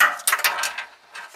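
A plastic trim panel on a Subaru Crosstrek's rear is pried and pops loose, giving a brief cluster of close, sharp plastic clicks and scraping snaps lasting just over a second.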